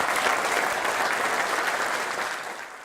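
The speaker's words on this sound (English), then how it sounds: "Applause from the party faithful for no less an occasion than the launch of a new poster." Conservative party faithful applaud the launch of a new campaign poster ahead of a general election, a thick, even wash of clapping from a crowd that holds steady and then eases off toward the end.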